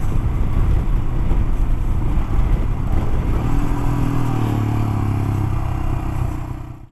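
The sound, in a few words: Royal Enfield Himalayan 411cc single-cylinder motorcycle accelerating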